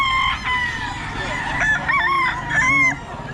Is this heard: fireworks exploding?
no